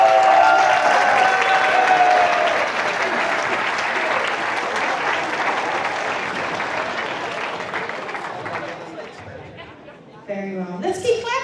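Spectators at the opening ceremony of a youth championship in Tilburg, Netherlands, give sustained applause for an introduced athlete, a dense clapping wash that starts strong and slowly fades, with a voice speaking near the end.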